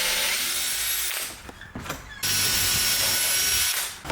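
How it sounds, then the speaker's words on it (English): A power drill bores a hole through a paper template's center point, running loud and steady for about a second, pausing briefly, then biting in again with a sustained whine. "So we're going to drill accordingly"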